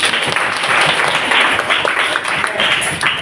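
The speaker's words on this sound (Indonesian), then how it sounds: "semuanya tepuk tangan" A classroom of students clapping together during a lesson, a dense, continuous burst of applause at close range, fairly loud and even throughout.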